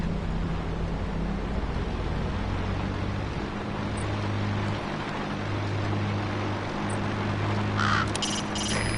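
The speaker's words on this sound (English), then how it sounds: "So this is Raven territory." A common raven caws in a PS4 video game, a few calls rising out of a steady, droning ambient background.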